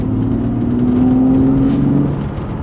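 A BMW Z4 with a sound generator mod, in third gear under added throttle, gives a loud, steady engine drone with a rising hum that fades slightly toward the end.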